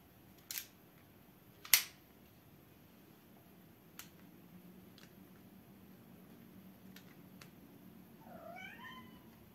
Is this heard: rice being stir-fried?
no